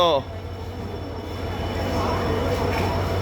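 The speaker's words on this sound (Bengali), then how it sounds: "ওই যে উঠছো ট্রেন" A train rumbles and clatters steadily nearby as passengers climb aboard, with voices calling out over the rolling noise.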